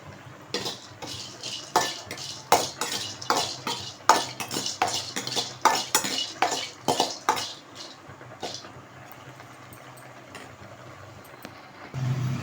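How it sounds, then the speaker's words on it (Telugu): A metal spoon scrapes and clatters rhythmically against a pan while cardamom and cloves fry for chicken pickle, about a dozen sharp strokes over eight seconds, then a quieter sizzle with a final knock. "యాలకులు, లవంగాలు వేసి ఫ్రై చేసుకోవాలి."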